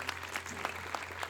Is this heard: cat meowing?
no